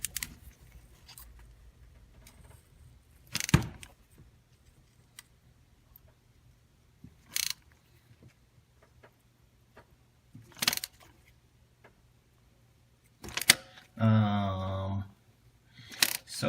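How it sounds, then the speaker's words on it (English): Ratchet clicking as it turns an OTC 6918 spark plug removal tool on a Ford 3V engine, heard as short, sharp bursts of ratcheting spaced a few seconds apart, fairly close, with quiet gaps between them. "That's my ratchet."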